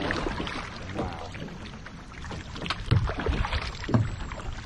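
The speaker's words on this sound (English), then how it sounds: "crazy wild rapids, you guys" River water rushing and splashing around a kayak, a close, uneven wash with louder surges and knocks, no talking.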